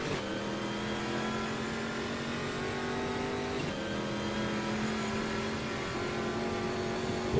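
Chevrolet Montana race car engine in the Automobilista sim racing game at Cascavel, a steady mid-pitched drone held at constant revs with a brief dip partway through, close and continuous with no talk.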